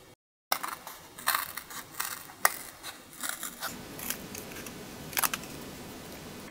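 Scissors cut a leaf shape out of cardboard in a series of close, crisp snips and crunchy rasps, irregular and moderately loud, with no voices.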